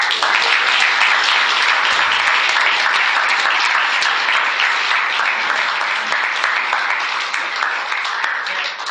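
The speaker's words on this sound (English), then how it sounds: "how about a round of applause for all of them?" A dense crowd of clapping hands rises for scientists at an image awards event at a research institute, loud and continuous from start to finish without a pause, thinning only slightly at the very end.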